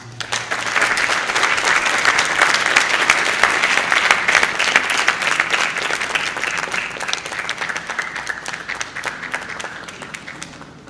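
A large audience at a United Nations Day event in Haiti breaks into sustained applause after the Prime Minister's speech, a loud, dense wash of clapping that holds steady for about eleven seconds before easing slightly.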